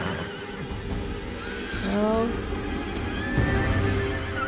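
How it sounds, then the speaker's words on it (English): Horses neighing and whinnying at a stable, several rising and falling calls standing out over a busy background of people talking. "Henry's at the stables. Horses are freaking."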